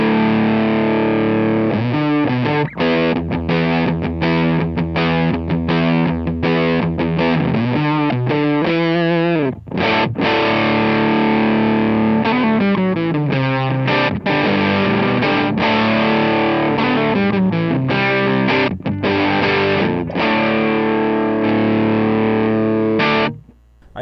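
Electric guitar driven through a Facer fuzz pedal placed first in the signal chain, playing loud, heavily saturated chords and riffs continuously for the whole stretch with a thick, buzzy, distorted tone and brief gaps between phrases.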